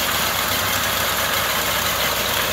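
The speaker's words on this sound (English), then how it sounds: "I've never had a problem with this engine." A 1971 Corvette with a 350 V8 engine idling steadily and close by, a continuous rumbling drone with no speech over it.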